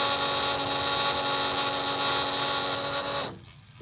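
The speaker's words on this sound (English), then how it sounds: "turn on the macerator, and you can open your valves and all the discharge comes out" A 12V macerator pump runs steadily, discharging RV holding-tank waste through a garden hose at home, giving a loud, continuous whirring drone with a steady hum that cuts off abruptly near the end.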